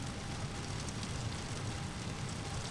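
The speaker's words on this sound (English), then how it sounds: "You can hear that rain. It's raining in Orlando." Steady broadband rain hiss in Microsoft Flight Simulator, falling on an LVFR A21N airliner at Orlando airport (KMCO), continuous and even with a low rumble underneath and no voices.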